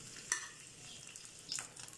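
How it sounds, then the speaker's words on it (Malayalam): Fish pieces frying lightly in a pan, a soft continuous sizzle with two brief sharp utensil scrapes, quiet and close with no talking. "നമ്മൾ ചെറുതായിട്ടൊന്ന് വറുത്തെടുത്താൽ മതിയാവും."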